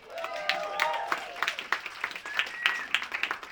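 Applause and clapping from a comedy-show audience, a loud burst of many hands with some crowd noise mixed in.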